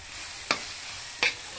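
Food being stirred in a hot pan, two short scraping strokes of a utensil about half a second apart, close and clear over a steady faint sizzle.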